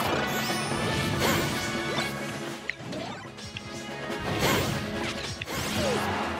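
Mario gets smashed in Super Smash Bros. for Wii U, a dense run of loud crashing hits, whacks and whooshes from the fight, layered over busy game music with several sharp impacts.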